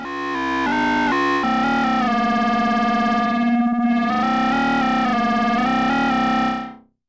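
A Korg volca Modular synth plays aggressive FM and wave-folded tones: loud, buzzy, distorted sustained notes that change pitch in steps, with a warbling dip midway before fading out, heard alone.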